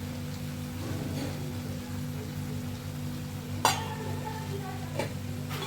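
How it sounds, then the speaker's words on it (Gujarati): Green palak pulav rice being gently stirred in a pot, a soft continuous scraping and rustle with a hum underneath and a couple of sharp clinks of the spoon against the rim. "બધું હળવા હાથે સારી રીતે મિક્સ કરી દઈશું."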